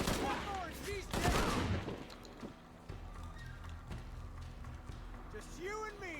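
Shotgun blasts in a Tomb Raider game, a few heavy booming shots close together early on, then quieter game sounds and footsteps, with a voice talking over parts of it.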